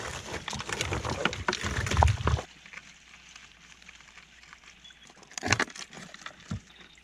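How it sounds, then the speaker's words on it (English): A dense chorus of frogs croaks beside a gold sluice on a river bank, rough bursty calls crowding the first seconds, then thinning to scattered sharp croaks over a low background hiss. "We've got about 1 million lucky frogs croaking their heads off"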